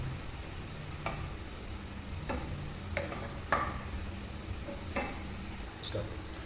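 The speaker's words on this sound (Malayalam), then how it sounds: "സവാള വറുക്കുമ്പോൾ ഒരു പ്രത്യേക മണമൊക്കെ ഉണ്ട്" Onions fry in a pan for a prawn biryani, a continuous low sizzle punctuated by several light ticks and scrapes of a spatula against the pan.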